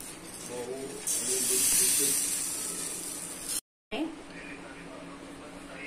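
Banana-flour bhakri flatbread hitting a hot griddle that needs no more oil, a bright hiss that swells for about two seconds, then a brief cut and a quieter steady sizzle that carries on alone.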